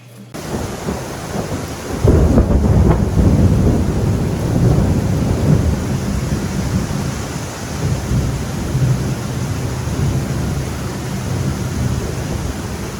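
In the Costa Rica rainforest, a thunderstorm breaks with a deep roll of thunder about two seconds in, then heavy rain hisses and drums steadily on the foliage for the rest of the stretch.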